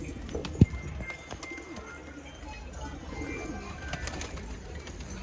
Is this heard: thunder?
no